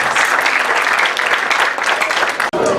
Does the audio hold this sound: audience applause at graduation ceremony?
yes